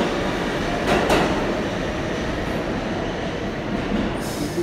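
A 4 train rumbles loudly nearby with a steady roar and brief metallic wheel squeals, echoing through the underground Fulton Street station in New York City.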